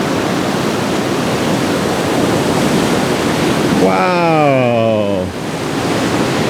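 Ocean surf washes over a rock shelf in a loud, continuous roar of rushing water, with a voice briefly exclaiming over it.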